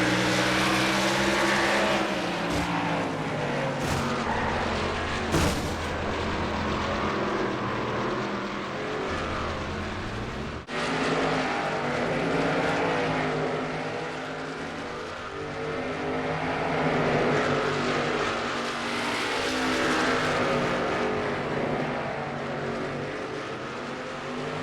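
Race cars in NASCAR Racing 2003 circling Myrtle Beach at reduced caution pace behind a pace truck in a Truck Series career race, a steady loud layered engine drone with harmonic bands throughout, no talk.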